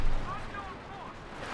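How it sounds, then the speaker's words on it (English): Company of Heroes 2 real-time strategy battle with booming artillery and explosions, a heavy low thump at the start fading into a rumbling din, heard alongside a commentator's voice. "Despite all the explosions"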